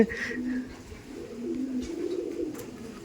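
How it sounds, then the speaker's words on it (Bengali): Pigeons at a loft coo softly in low, rolling calls, with a few brief sharper sounds mixed in, close by and without speech. "এই পায়রাটার দেখুন কত ছটফটে পায়রা দেখুন উড়ে যাচ্ছে সব"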